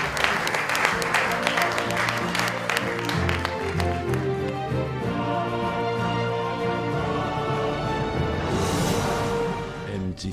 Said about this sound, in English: I'd like everyone to just give a round of applause for a great panel.